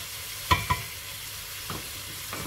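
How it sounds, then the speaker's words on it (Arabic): Small potato pieces frying in a pan for harira, a quiet steady sizzle with two soft stirring clicks early on and a couple of fainter scrapes later, with no talking. "نخليه يتقلى تري بيان."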